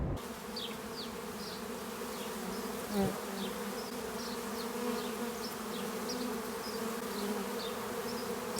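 A honey bee swarm leaving the hive buzzes as a dense, continuous drone, with individual bees zipping close past now and then.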